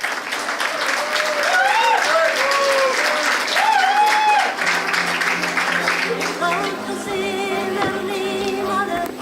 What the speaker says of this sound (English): can we have a huge round of applause for Mr. Shekhar Patel?